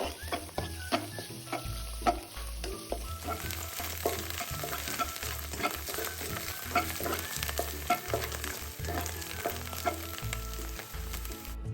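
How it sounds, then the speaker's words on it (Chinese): Diced shiitake mushrooms stir-fry over medium heat in fried shallot oil: a steady, close sizzle with repeated spatula scrapes and stirring clatter, and no talk. "再用中火爆香所有食材"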